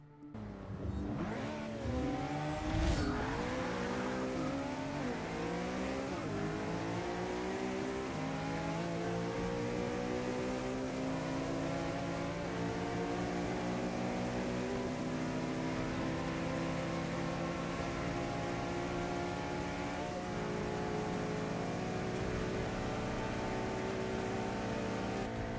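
Engines of a McLaren 650S and a BMW E30 racing in Forza 6, with a sustained high revving howl that climbs through the gears and some tire noise, playing alone without talk.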